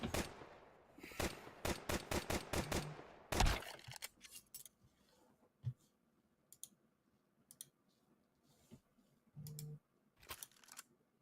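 Gunfire in a video game match, heard as rapid bursts of sharp shots in quick succession that then thin out to scattered single cracks over a quiet background.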